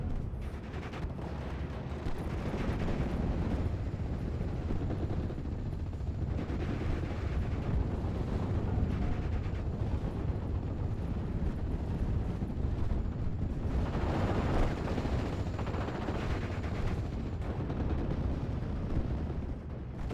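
A World War II strategy game artillery barrage pounds a paratrooper squad, with dense rumbling explosions and crackling gunfire rolling on continuously at steady loudness throughout.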